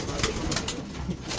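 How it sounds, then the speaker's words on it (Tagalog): Pigeons cooing and stirring inside a loft, a continuous low murmur of soft coos with a few brighter flutters, moderately near and steady throughout. "Ayan, parami ng parami yung mga ibon natin dito sa loft natin."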